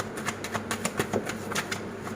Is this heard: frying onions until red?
no